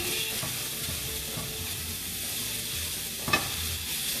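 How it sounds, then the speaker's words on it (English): Mushrooms cook down in a pan as part of a quiche, making a constant close sizzle and frying hiss. A few light stirring clinks break in, and one sharp knock sounds near the end. "I'm going to cook down the mushrooms first"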